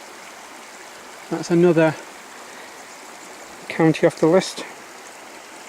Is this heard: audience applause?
no